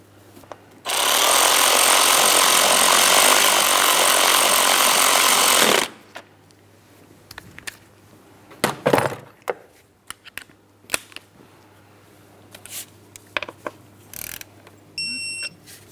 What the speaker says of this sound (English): continue on to tightening the 10mm headed mounting bolt and torque it to 89 inch-pounds